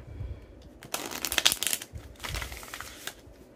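Oracle cards being shuffled by hand during a card reading, a crisp papery riffling in several quick bursts, close and clear with short pauses between rounds.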